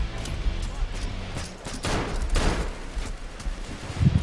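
Rapid bursts of gunfire in the video game Payday 2, loud and close, with repeated shots clustering in volleys, while a player talks over the action.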